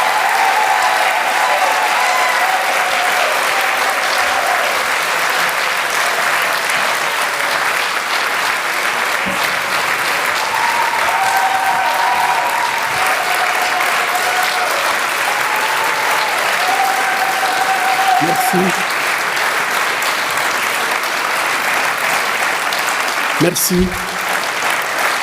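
An audience applauds a doctor with loud, sustained clapping that fills the room, and a voice briefly speaks near the end.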